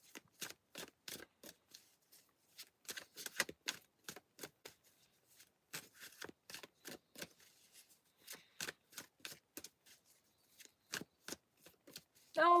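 Tarot cards being shuffled in quick crisp bursts of riffling and snapping, close and fairly quiet, with short pauses between rounds and no talking.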